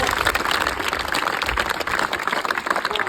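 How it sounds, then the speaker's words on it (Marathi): Dense, steady applause from a school audience at a motivational speech fills the whole moment, loud and unbroken. "म्हणून स्वतःसाठी एकदा जोरदार टाळ्या होत्या."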